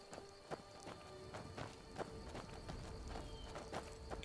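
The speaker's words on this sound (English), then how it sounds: "So I hear her footsteps behind me, so I know she's still companioning with me." Footsteps of a companion walking behind the player in the video game Skyrim, a steady run of soft, regular thuds over a constant background ambience, fairly faint and without talk.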